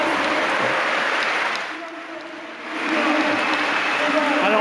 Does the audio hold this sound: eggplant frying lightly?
no